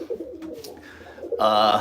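Racing pigeons coo in a loft, soft throaty calls at first, then a louder, fuller coo swelling up close at the end.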